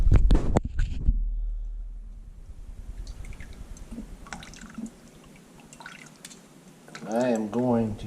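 Black cherry juice drips and trickles through a small kitchen strainer after being poured from a pot, soft wet patters running steadily with a louder thud at the start and a voice speaking near the end.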